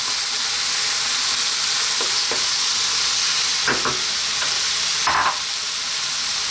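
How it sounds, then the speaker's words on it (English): Cooked green lentils tipped into a hot pan, a loud continuous sizzle punctuated by several short scraping stirs. "And now I'm going to drop in our cooked lentils"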